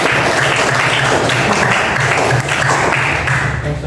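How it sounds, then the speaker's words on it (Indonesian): An audience applauds in a classroom-style setting, a loud, steady wash of clapping from many hands that holds for several seconds and dips slightly near the end. "Terima kasih aplaus untuk kita semua."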